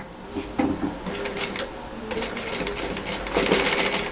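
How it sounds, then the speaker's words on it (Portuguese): Sewing machine stitching a Seminole-pieced dish towel, with rapid whirring bursts of stitching separated by short pauses and small clicks, fairly close and without talk. "Vou passar uma costurinha agora aqui."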